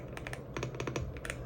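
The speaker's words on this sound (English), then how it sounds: "It's really nice because like the sound, right, is kind of like the creamy keyboard kind of sound," Keys clatter on a mechanical keyboard with a soft, creamy tone rather than a sharp one, in a steady run of close, fairly loud keystrokes.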